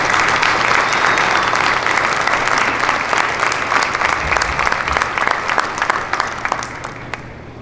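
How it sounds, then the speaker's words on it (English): An assembled crowd at a museum ceremony applauds loudly and continuously, dense clapping that holds steady and then slowly tapers off toward the end. "I just ask for a round of applause for them."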